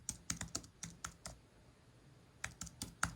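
Keys clack on a computer keyboard while a folder name is typed, two quick bursts of close, crisp keystrokes separated by a short pause.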